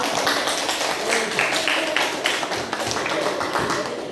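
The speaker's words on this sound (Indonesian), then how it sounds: "Tepuk tangan ya buat kelompok satu" A classroom group claps together for the first student group after their presentation, a dense, steady burst of many hands that carries evenly through the whole stretch.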